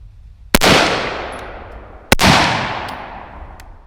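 An unsuppressed 14.5-inch BCM 5.56 AR rifle fires outdoors, two loud, sharp cracks about a second and a half apart, each followed by a long rolling echo.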